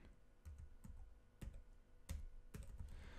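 Several bursts of computer keyboard keystrokes, fairly close, as a password is typed during an online betting deposit, uneven in rhythm with short pauses between clusters of clicks.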